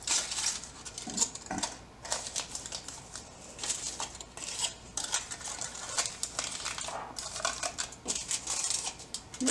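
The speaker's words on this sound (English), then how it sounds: "I want to cover each of these cheesecakes with aluminum foil" Aluminum foil being crinkled and pressed tightly over cheesecakes in a kitchen, a steady run of close, soft crackling and crumpling with no talk.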